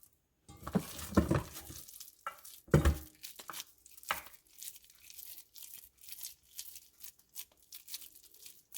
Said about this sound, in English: and roll it in the breadcrumbs and fry it